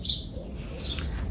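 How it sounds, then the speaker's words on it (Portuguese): Small birds chirp in a sunny, slightly chilly flower garden, a few short high tweets close to one another over a faint, steady outdoor background, with no talk. "Os passarinhos estão bem felizes cantando."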